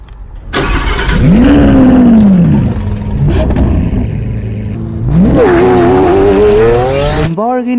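A Lamborghini Aventador's naturally aspirated V12 engine roars close by, revving up and falling back, then surging again to a high, sustained howl before cutting off abruptly.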